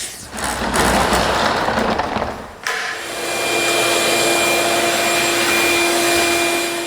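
A vacuum cleaner starts up nearby with a thump, then settles into a loud, steady whirring hum that runs to the end.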